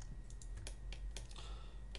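Keyboard shortcuts are tapped out on a computer keyboard during UV unwrapping in 3D modelling software, a quick run of close, crisp, irregular key clicks over a low background hum, with no talking.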